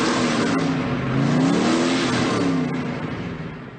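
Christine, the killer car from the 1983 film, revs its engine in a loud, sustained growl that rises and falls in pitch over a few seconds, close and alone with no voices.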